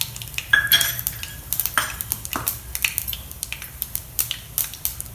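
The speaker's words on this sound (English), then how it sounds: "when they splutter, add a teaspoon of white til seeds or sesame seeds also to it" Mustard seeds and sesame seeds splutter in hot oil in a pan, a steady run of sharp crackles and pops over a low frying hiss, close and moderately loud, with no voices.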